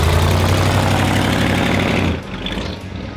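An old classic car engine runs loud and close with a rough, low rumbling idle that drops off sharply near the end, leaving a quieter residual hum.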